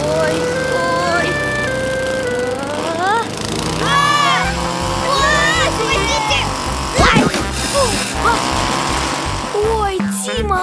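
A cartoon lawn mower sputters and then runs with a steady buzzing drone, surrounded by bright, swooping animated sound effects and music, and cartoon voices chatter over it.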